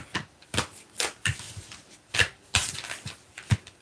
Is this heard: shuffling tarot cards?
yes